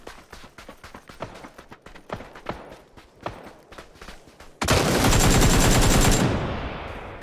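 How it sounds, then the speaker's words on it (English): Gunfire in the video game PUBG: a run of distant, sharp single shots with uneven gaps, then a loud, sustained burst of fire close by. "Nice shots, dude."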